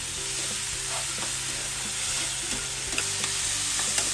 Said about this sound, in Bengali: 1 থেকে 2 মিনিট চুলার আঁচ মিডিয়াম করে নাড়াচাড়া দিতে থাকবো